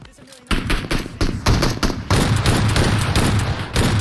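Loud, close gunfire in the video game PUBG Mobile, with a crack, then repeated shots and a dense sustained burst filling the remaining seconds, with no talking.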